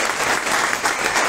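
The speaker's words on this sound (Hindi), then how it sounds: "इसलिए आप इनके लिए ताली बजाओ" Devotees clap together at a temple satsang gathering, a dense, steady burst of hand claps filling the short moment without voices.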